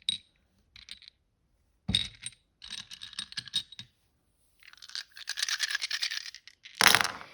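Dice rolled for a divination reading clatter in several quick bursts, with sharp rattling taps and a longer tumbling roll near the end, close and fairly loud with quiet gaps between.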